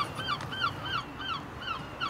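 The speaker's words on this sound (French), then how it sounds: "On entend des mouettes" Gulls call repeatedly at early morning in Dieppe, Normandy, short rising and falling cries spaced across the clip over a steady background hum, moderately distant.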